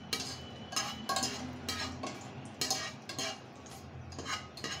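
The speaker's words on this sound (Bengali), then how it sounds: "এখন আমি এটাকে খুব সুন্দর করে, যতক্ষণ না ভালো একটা ফ্লেভার আসে ততক্ষণ আমি এটা ভেজে নেব।" Whole spices, cardamom and cloves, fry and get stirred in a pan for morog polao, with repeated sharp metallic scrapes and clinks of a utensil against the pan over a soft background sizzle.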